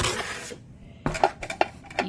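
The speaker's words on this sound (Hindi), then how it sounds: "ये प्रेशर कुकर है।" A new steel pressure cooker being handled, with a few sharp metallic clinks and knocks of the body and lid, close by, set apart by short pauses.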